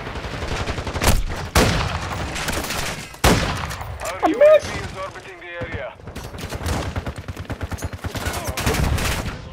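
Bursts of gunfire, including pistol shots, in an online multiplayer shooter, loud sharp cracks and rattling volleys broken by brief pauses, with players talking over and between the shots.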